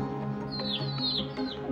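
Parrots chirping inside a breeding box: a few thin, high, sweeping chirps repeat over about two seconds above a steady low tonal hum, fairly close but not loud.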